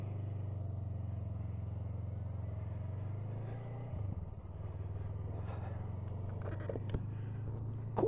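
A 2022 Honda CMX 500 Rebel motorcycle engine runs steadily while riding, a low, even rumble that holds throughout, dips briefly near the middle, then swells slightly at the end.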